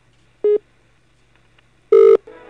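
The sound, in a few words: telephone call ringing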